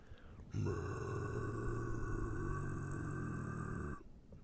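A voice imitates an engine with a low, sustained, rumbling drone held for several seconds, then cuts off abruptly.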